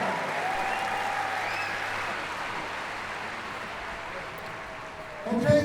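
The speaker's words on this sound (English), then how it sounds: "Give a round of applause. Our new world record holder in the silver dollar." Sustained crowd applause at a strongman world championship, greeting a new world record holder in the silver dollar deadlift, fairly steady then tapering, with a brief louder burst near the end.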